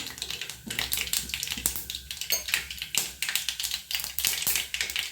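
Mustard seeds spluttering in hot oil in a pan, with rapid irregular crackles and pops close by, bursting continuously with no talk.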